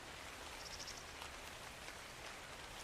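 Rain in the video game ARK Survival Evolved hisses as a faint, steady wash of patter with no other sounds.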